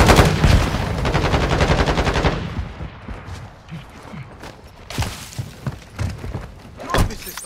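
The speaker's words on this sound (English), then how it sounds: "Throwing flash grenade." Flash grenade in the video game Modern Warfare 2, heard amid a dense burst of gunfire that gives way to scattered sharp pops and thuds, loud and close within busy battle sound.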